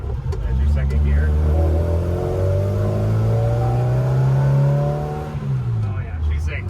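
A 1959 Austin-Healey Sprite pulls in second gear, its engine note rising steadily and loud from close by, then dropping as the throttle eases, with someone talking briefly at the start and end.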